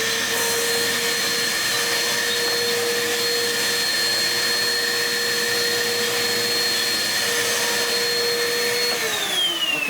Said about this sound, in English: I'm going to go ahead and vacuum anyways, just to see if I can get some out or see if it spreads